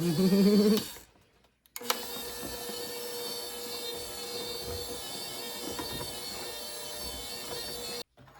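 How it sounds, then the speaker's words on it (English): Electric mixer running on low through royal icing with powdered sugar, a steady whirring hum that cuts out briefly near the start and then runs on evenly before stopping at the end. "2 cups of powdered sugar. And then we're going to mix again on low."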